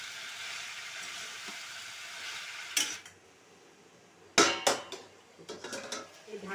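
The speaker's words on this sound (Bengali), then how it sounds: "একটু নাড়াচাড়া করি।" Ridge gourd and potato pieces are stirred in a pan, with scraping and clattering knocks of a utensil against the pan over a soft steady background hiss, louder bursts coming in two clusters.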